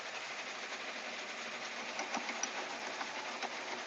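A home embroidery sewing machine runs a short back stitch, a steady close motor hum with a fast stitching buzz throughout, and faint clicks near the middle.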